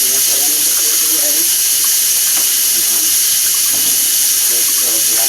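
Water runs steadily from a kitchen tap during home cooking, a loud, constant rushing hiss that fills the whole moment with faint voices underneath.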